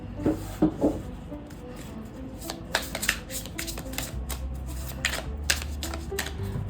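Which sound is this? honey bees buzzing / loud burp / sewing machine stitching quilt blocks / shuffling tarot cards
shuffling tarot cards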